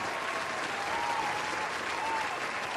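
Steady applause from a group fills the space, a constant dense patter of clapping hands at moderate level, with a faint tonal squeak briefly drifting over it.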